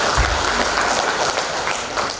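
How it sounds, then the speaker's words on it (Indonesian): Audience applause for participants at the opening of a hajj and umrah guide certification event, a dense, loud wash of clapping that fills the room, swells at the start and stays steady throughout. "Jadi tepuk tangan kepada peserta."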